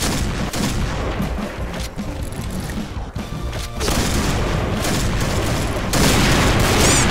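PSG1 sniper rifle gunshots in the video game Point Blank ring out amid dense, loud game noise, with heavy booms and crashes layered throughout and no clear talk.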